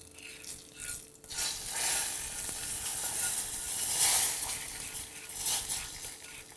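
Spices tipped into a hot pan for South Indian tomato rasam, bursts of crackling sizzle swelling and fading in waves with a faint clink of utensils, close and fairly soft.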